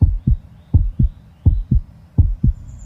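A chipmunk's heartbeat sounds as deep, muffled paired thumps in a steady, even rhythm, close and prominent with no talking.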